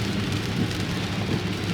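Steady rain patters and hisses continuously against a car while it is being driven, a dense, even wash of noise with no voices.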